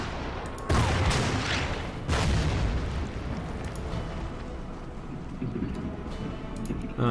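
Gun and artillery fire in the strategy video game Order of Battle: Panzerkrieg, set at Sevastopol: two heavy booming blasts with long rumbling decay, then a steady roar with a later smaller hit.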